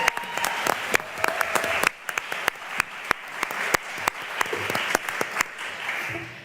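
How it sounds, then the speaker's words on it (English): An audience claps steadily for several seconds at a US Cyber Games draft day event, with sharp individual claps standing out above the dense, sustained applause. "Let's give her a round of applause."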